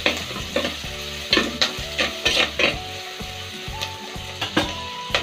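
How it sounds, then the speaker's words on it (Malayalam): Clams fry in a pan for a Kerala-style kakka roast while a spoon stirs them. Sizzling runs under repeated clinks and scrapes of the utensil against the pan, close and fairly loud, with no speech. "നന്നായിട്ടൊന്ന് ഇളക്കി"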